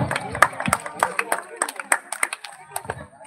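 Children at a cultural festival prize ceremony clapping for a winner, sharp scattered claps at an uneven rhythm, heard close and fairly loud while someone speaks over them.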